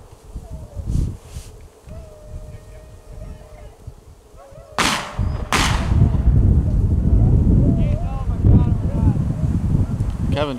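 Two sharp, loud shotgun-style reports crack in quick succession during a cold, icy rabbit hunt with dogs pushing rabbits in Virginia, followed by heavy wind buffeting the microphone and faint background sounds.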